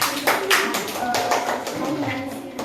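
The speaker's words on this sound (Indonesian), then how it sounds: "Tepuk tangan untuk kelompok kucing." A class of students claps for a winning group in an Indonesian classroom coding lesson, a dense patter of hand claps with the teacher's voice faintly over it.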